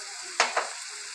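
Ginger garlic paste frying in a pan for fish curry, a soft bed of sizzle broken by two quick bursts of stirring or spattering.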